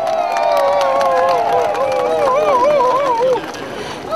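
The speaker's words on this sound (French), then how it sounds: "Un applaudissement pour eux," Dense crowd noise at a street demonstration in The Hague calling for Laurent Gbagbo's release, with steady cheering and wavering horn-like or whistled tones rising over the din for about three seconds before easing.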